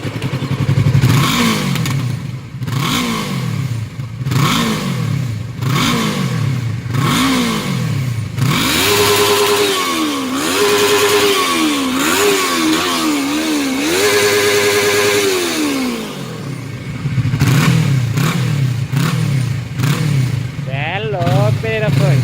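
Yamaha MT-03 motorcycle with its exhaust muffler removed, revving loudly and repeatedly in rising and falling bursts, then holding a sustained high rev before dropping back to a rough, throbbing idle.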